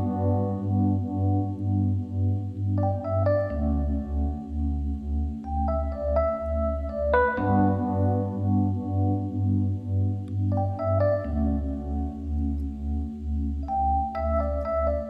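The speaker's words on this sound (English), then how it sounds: "So I went back to the Rhodes and I kind of added a little bit of a freestyle twinkle sparkle thing." Rhodes electric piano plays a loose, freestyle twinkling line of high notes over sustained keys chords in an R&B beat, with a steady low pulse underneath, gentle and continuous throughout.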